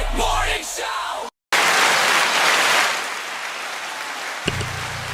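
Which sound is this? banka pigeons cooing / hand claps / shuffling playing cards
hand claps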